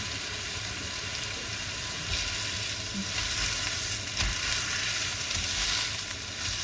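Rice noodles frying in a hot wok for rad na with marinated pork, a steady loud hiss of sizzling oil with occasional scrapes and stirring knocks, close up and without talk.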